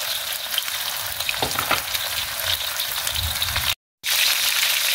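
Chicken fries in hot oil with a steady, loud crackling sizzle, interrupted once by a brief moment of silence before resuming.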